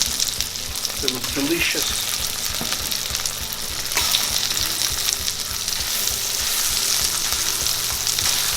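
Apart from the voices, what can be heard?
tomato pieces frying in a pan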